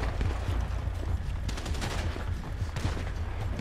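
Rapid bursts of gunfire in the video game GTA 5, dense and continuous across the whole stretch with overlapping shots, loud and close with no voices over it.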